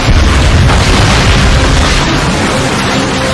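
Artillery strikes pound a Stalingrad cityscape in Call of Duty Finest Hour, a dense, loud, continuous rumble of heavy booms and bursts with no pause across the whole stretch.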